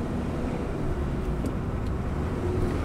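A car engine hums steadily at moderate loudness in third gear during a driving lesson, with road and tyre rumble and no talking.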